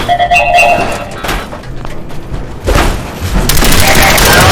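Turret gunfire in the Fallout 4 video game on PS4, loud bursts and booming shots erupting in clusters, with an alarm-like tone early and dense firing at the end.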